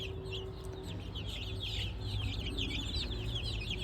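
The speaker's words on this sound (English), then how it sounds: "their real name is Buff Plymouth Rock" Buff Plymouth Rock chickens, young layer hens, cluck and chirp steadily in a baby chick barn, a dense chorus of overlapping calls over a constant low hum of barn ventilation.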